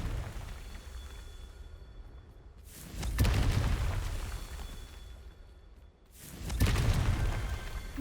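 Confringo blasting spell in Hogwarts Legacy exploding twice, each a loud booming burst with crackling debris that rumbles and fades before the next one hits.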